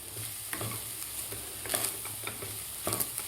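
Jaggery sautéed with grated coconut and rice in a pan, a steady soft sizzle with scattered scraping stir strokes, close and moderately quiet.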